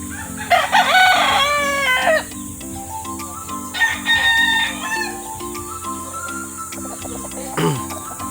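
Roosters at a backyard gamefarm crow repeatedly in long rising calls, several birds close by and overlapping, with steady farmyard background between the crows.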